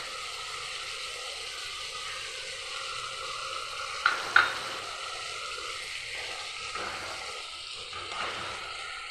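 Pointed gourd (potol) cooking with kasundi mustard sauce in a pan hisses in a soft, steady sizzle, broken by a couple of sharp utensil clinks and light stirring.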